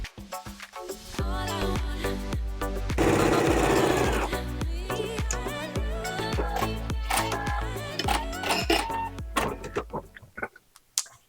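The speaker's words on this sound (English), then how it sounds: "we are done with the sewing of our 4 patches" A sewing machine stitches quilt four-patches in a steady, close mechanical whir with a quick rhythmic needle beat, speeding up briefly before slowing to a few separate stitches at the end. No one speaks.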